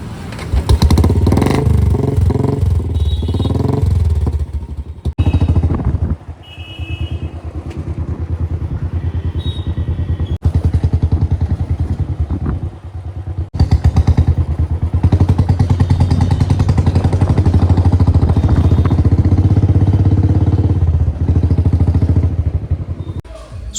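Motorcycle engine running after servicing, loud and close, a rough continuous rumble with a few brief dips and revs, plus clatter and thumps.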